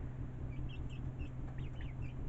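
Young hens in a backyard flock give soft, repeated clucks and short chirps at moderate distance over a constant low background hum.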